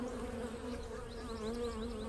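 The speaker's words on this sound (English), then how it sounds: "all emerging drones. You can see them coming out." Honeybee drones emerging from an opened hive buzz close by, a continuous droning hum with rising and falling pitch as individual bees pass near, no talking.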